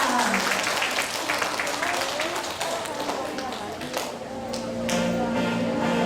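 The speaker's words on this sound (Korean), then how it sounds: "힘차게 박수 치면서 주님을 찬양합시다." Children and congregation at an elementary-level Sunday worship service clap steadily, with a voice and sustained tones running over the clapping, briefly easing before picking up again.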